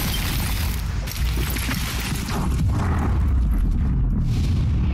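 A heavy, rumbling video game explosion fills the whole clip, a dense roaring boom that stays loud and steady for several seconds with crackling debris on top.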